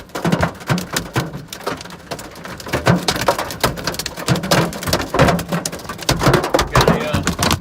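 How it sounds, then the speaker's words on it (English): Golf-ball-size hail hammers a vehicle during a Texas Panhandle storm, a dense, loud, continuous barrage of sharp impacts with heavier cracks scattered throughout and occasional voices underneath. "joining us in the hail barrage"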